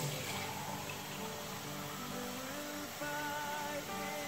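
Water poured from a cup into a cooking pot for banga and bitter leaf soup, a short continuous splashing trickle, near and moderately loud over a faint background hum.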